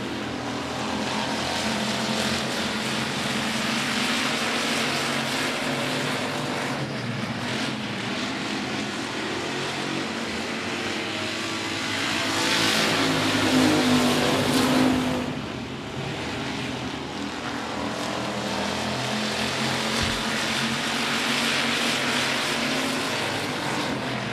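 Race cars lapping the oval at 105 Speedway during a regular race program, a continuous loud engine roar that swells and fades as the pack passes, with one louder pass midway.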